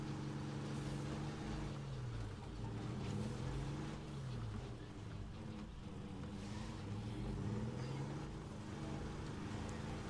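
A vehicle engine in State of Decay 2 drones steadily throughout, a low humming tone that rises and falls in pitch as the in-game car is driven along.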